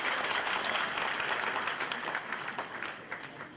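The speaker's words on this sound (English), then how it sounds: "I thought I would get an applause for that." A lecture audience breaks into applause, a thick burst of many hands clapping close in the hall that stays loud and then thins a little over a few seconds, with no voices on top.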